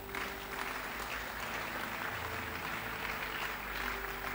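A church congregation applauds a sermon, the clapping sustained and dense throughout, with a crowd filling the room and no break in the noise.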